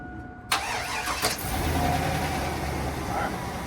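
A car engine cranks and catches with a sharp onset, then settles into a steady idle during work on a seized brake caliper, close by and alone.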